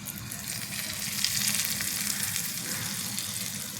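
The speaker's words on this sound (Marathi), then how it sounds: "थोडा हिंग आणि थोडी हळद आपण याच्यात घालून घेऊ आणि वरनं ही मिरच्या, कढीपत्ता अशी घातलेली फोडणी" Hot oil crackles and sizzles steadily as green chillies, curry leaves, asafoetida and turmeric hit the pan, a loud continuous hiss with fine popping throughout.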